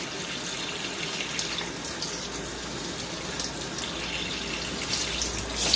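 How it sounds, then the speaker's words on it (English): Ordinary tap water gushes steadily into a plant pot filled right to the top and spilling over, a continuous loud splashing rush with no pauses. "Right up to the top, overflowing with just normal tap water."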